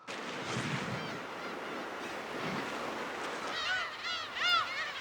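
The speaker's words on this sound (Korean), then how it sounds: "독도에서 괭이갈매기는 봄, 여름엔 언제든지 만날 수 있습니다." Black-tailed gulls call on Dokdo island, a string of nasal, yelping cries growing louder toward the end over a steady rush of wind and surf.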